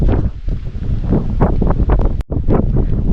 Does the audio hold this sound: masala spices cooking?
no